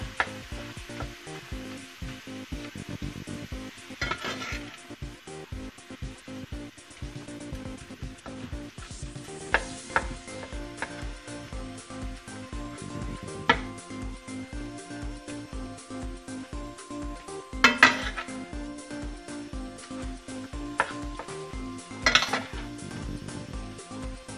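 Meat browning in a hot pan for keto nachos, a constant loud sizzle and crackle punctuated by a utensil scraping and clinking against the pan as the meat is stirred, with no voices over it.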